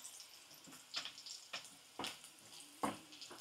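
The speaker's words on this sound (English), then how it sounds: "after browning the sausage, a little bit more" Sausage browning in a pan gives a faint, steady sizzle, broken by several sharp scrapes and clicks as it is stirred and turned, with no talking.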